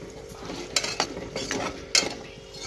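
A utensil stirs and mixes chicken curry in a pan, with soft scraping strokes and a few sharp metallic knocks against the pan over a faint sizzle, and no one speaking.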